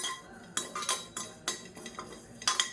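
A spoon scrapes and clinks against a metal pan while rice and curry leaves dry-roast for sambar, a series of short, close stirring clatters with no talking.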